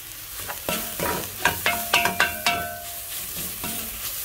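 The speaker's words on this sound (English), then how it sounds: "You have to cook carrots until it's burnt." Carrots frying in a pan for a pilau made with leftover beef, with a sizzling hiss and a series of sharp utensil clinks and scrapes, close by and with no talk.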